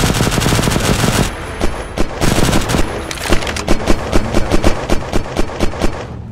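High-caliber weapon gunfire in the survival game Unturned: heavy rapid bursts give way to a run of distinct, evenly spaced booming shots, loud and close, with no voices.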